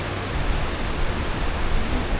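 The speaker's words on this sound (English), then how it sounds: "like the waterfall is beautiful" A steady, rushing roar of falling water from Burgess Falls fills the air, broad and constant with no other sounds standing out.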